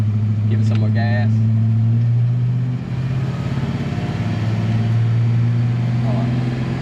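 El Camino engine revving steadily as gas is applied, a loud, sustained, low droning roar held close throughout, with a brief dip midway.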